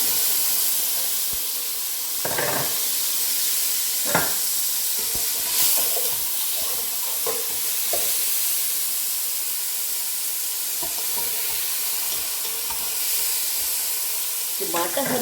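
Onion, tomato and green chilli fry in a pan with a continuous bright, hissing sizzle, broken now and then by short clinks and scrapes from a utensil.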